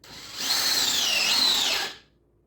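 A DeWalt cordless drill drives a screw in a power comparison test. A single high-pitched whir of about a second and a half winds up and then cuts off, leaving a quiet room behind it.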